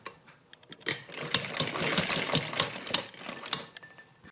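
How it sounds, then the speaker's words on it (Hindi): Sewing machine stitching rows of cords onto a sleeve, a steady rapid mechanical whirr in bursts, close and fairly loud, with brief pauses at the start and no talking. "इस साइड भी हमें इसी तरह से सिलाई लगानी है"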